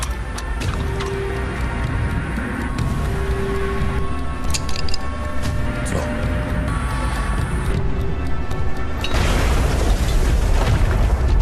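A dense, rumbling burst of noise like a gas stove explosion, with broadband roar building and a sharper blast near the end, over continuous background texture.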